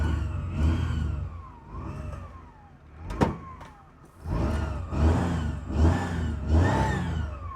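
A Maruti 800 car engine idles and revs after a self-start, rising and falling in uneven surges, with a sharp click in the middle.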